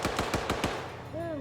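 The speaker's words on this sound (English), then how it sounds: "Got a 50 cal firing over and around." Heavy .50 cal machine gun firing in the Arma 3 military video game, a rapid run of about five loud, evenly spaced shots followed by a fading tail.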